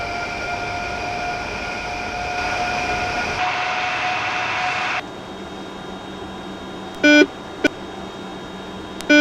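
A simulated VC10 airliner in Microsoft Flight Simulator X roars at takeoff thrust with a steady, loud engine whine and rumble. The noise drops to a lower drone partway through, and a few short electronic beeps follow near the end.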